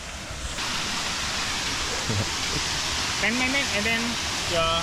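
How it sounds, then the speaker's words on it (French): Steady roar of rushing water fills the whole clip, a constant broadband wash, with a voice briefly speaking over it near the end. "on arrive à la cascade"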